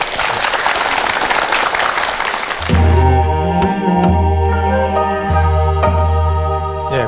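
Audience applause at a televised lecture on East Asian mythology fills the first few seconds as a loud, dense wash of clapping, then gives way to music.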